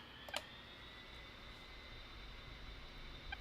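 A flight simulator airplane engine at takeoff power, heard as a faint, steady drone with a sustained hum, plus a few brief clicks near the start and at the end.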